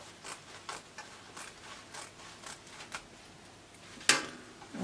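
Scissors cutting fabric for an off-shoulder dress sleeve make a quiet run of regular, crisp snips, close by, followed by one sharper, louder snap near the end.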